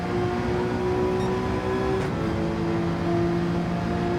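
A race car engine drones at high revs in a racing game on the Red Bull Ring, a steady, loud whine that shifts pitch slightly as the car drives past.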